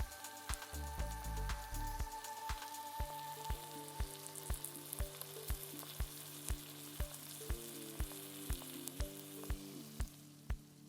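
Potatoes sizzle and fry steadily in a pan for a homemade batata bhaji, with a regular series of sharp taps and clinks, likely a spoon stirring against the pan, over the continuous crackle.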